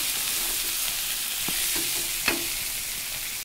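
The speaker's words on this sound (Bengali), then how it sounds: "দিয়ে দেখো এক এক করে আবার একটু কষালাম, কষা কষা করে করেছি।" Pointed gourd sautéed in a pan with spices, a continuous close hiss of frying with soft scrapes and taps of a spatula stirring through it.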